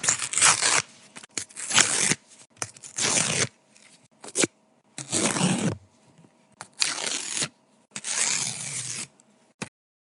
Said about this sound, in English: ripping paper.